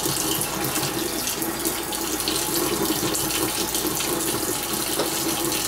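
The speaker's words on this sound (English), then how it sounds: "rinse the closure. I'm using Neutrogena shampoo." Tap water runs steadily into a sink while a lace wig closure is rinsed, a close, continuous rushing splash with no talking.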